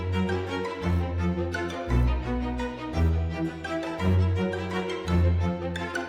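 Second violins play a short run within a full orchestral remix of Metroid's Kraid's Lair music, the strings moving over pulsing low bass notes with a dark, playful, theatrical feel.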